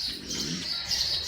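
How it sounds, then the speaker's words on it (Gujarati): Four or five sparrows chirp in quick, bright bursts close by, their busy twittering carrying over a soft background hum. "ચકલીઓ ત્યાંની મસ્તી પર ચડી છે, 4-5 ચકલીઓ."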